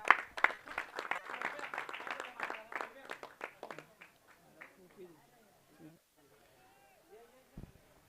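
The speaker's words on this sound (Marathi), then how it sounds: "खरोखर टाळ्या वाजवा" Crowd clapping at a village cricket tournament award ceremony, a dense burst of many hands in the first few seconds, thinning out and fading, with talk and background voices continuing under and after it.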